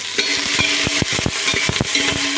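Chopped vegetables, onion and green chili sauté with cumin in a pan for bhuni khichri, giving a steady sizzle broken by repeated quick scrapes and clacks of a stirring spoon, close and fairly loud.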